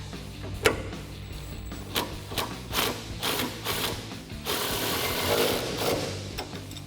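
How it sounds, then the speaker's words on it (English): A 3/8 impact gun tightens a bolt on the front suspension of a 2012-2018 RAM 1500 during a lift install, giving a series of short rattling bursts close by. "hold this with my 8 millimeter on my 3/8 impact gun and tighten this up"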